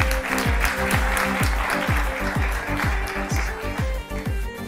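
An audience at a seminar claps to welcome a speaker, a loud steady applause with a repeating thumping beat underneath, near and continuous.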